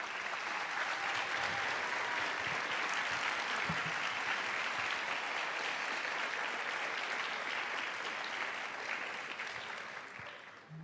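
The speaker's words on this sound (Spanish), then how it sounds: "Si el aplauso es para mí, que sea más fuerte" Sustained applause from a church congregation for a visiting preacher at an evening convention service, a dense steady wash of many hands clapping that fades slightly toward the end.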